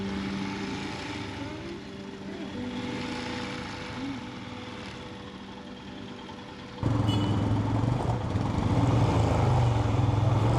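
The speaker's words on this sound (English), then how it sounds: "the traffic jam at the entrance quickly set us straight" Traffic jam at the entrance to Matagalpa, a mountain town in northern Nicaragua: a steady rumble of idling and creeping vehicles that swells abruptly louder partway through as a heavier engine passes close by.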